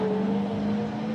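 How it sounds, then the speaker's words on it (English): A Corvette C8 Z06 with a flat-plane-crank engine races at a Road America road-course event, giving a loud, steady, sustained engine drone at near-constant revs for the whole moment, with no talk over it. "that flat plane crank engine."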